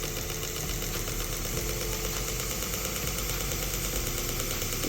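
A knife sharpener fitted with a new idler wheel runs at 2000 RPM, giving a steady, even mechanical whir and hum with a fine rattling texture. It holds constant throughout, close by and unbroken, with no voices.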